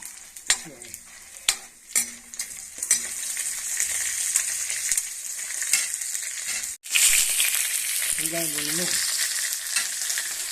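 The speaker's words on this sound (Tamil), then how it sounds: "நல்லா தோல் பிரிஞ்சு வர அளவுக்கு நம்ம வதக்கணும்." Tomatoes sautéing in a pan for chana dal chutney: a constant close sizzle, punctuated by several sharp spatula knocks and scraping stirs early on, with no speech.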